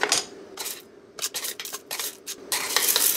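Beans are scooped in quick successive passes, several short rattling, scraping bursts separated by brief pauses, close and fairly loud, ending in a longer sustained rustle.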